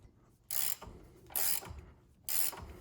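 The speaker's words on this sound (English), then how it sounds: "You're gonna use like a ratcheting wrench or something." A ratcheting wrench loosens a nut on a 1997–2004 C5 Corvette during a cam install, giving three separate bursts of close, rapid metallic clicking with short quiet gaps between them.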